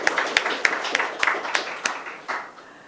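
A small audience claps for a speaker, giving steady, evenly spaced claps that soften and fade out.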